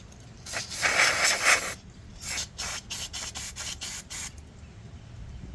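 Carburetor cleaner sprayed onto a metal lawn mower carburetor gives a loud steady hiss for about a second, then a run of short rapid bursts close up, with no talking.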